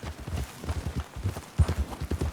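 A horse's hooves clip-clop at a steady walking rhythm, close and fairly loud, near a cougar's cave den in Red Dead Redemption 2.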